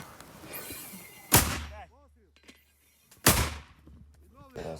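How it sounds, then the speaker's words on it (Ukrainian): Two sharp, loud mortar shots ring out a couple of seconds apart, each followed by a low rumble, with faint chirping birds in the quiet between. "Постріл."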